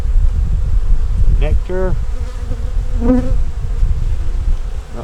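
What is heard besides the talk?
honey bees buzzing during hive inspection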